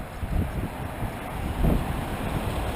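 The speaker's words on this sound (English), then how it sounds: "The wind has just come up, so we take it as it comes." Wind blowing outdoors in Tulbagh, near Cape Town, buffets the microphone in low, gusty rumbles that swell and ease over a few seconds, fairly close and without voices.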